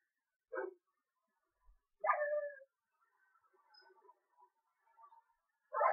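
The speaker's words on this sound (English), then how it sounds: "I am sick of these dogs." Dogs in the Minecraft video game give short, separate barks and yips, clear and fairly close against near silence, with faint whimpering sounds between them.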